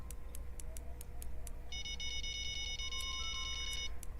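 A phone beeps faintly in a quiet room. A sustained, multi-tone electronic chirp lasts about two seconds over soft, regular ticking and a low hum.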